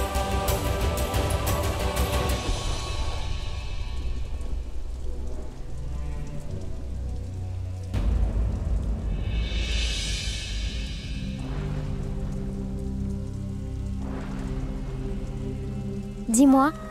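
Steady rain pours down throughout, a dense continuous hiss of drops hitting surfaces, loud and close, with occasional swells and a brief tonal sound near the end.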